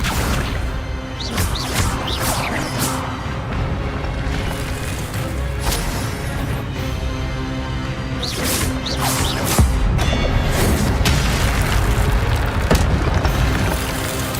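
Spell-casting impacts in the video game Hogwarts Legacy: repeated whooshes, cracks and booming hits over a dense, continuous game soundscape, with bursts of sharper strikes scattered across the span.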